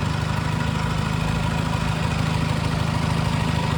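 A tractor engine idles while reversing to hitch a trolley, a low, even rumble with slight vibration, running continuously at close range.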